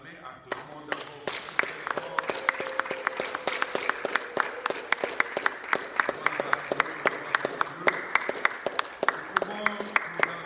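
A church congregation applauds with sustained, dense clapping and sharp individual claps standing out, while voices call and speak over it throughout.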